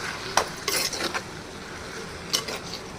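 Spoon stirring mutton curry with chili powder in a claypot, with a few short scraping and clinking strokes in two brief bursts against quiet background, no talking.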